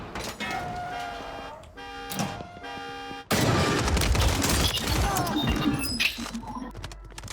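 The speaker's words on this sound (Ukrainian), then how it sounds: "Ось стріляються без мене" Bursts of rapid gunfire and explosive blasts from Call of Duty: Warzone 3, loud and dense, with electronic tones and clattering effects throughout.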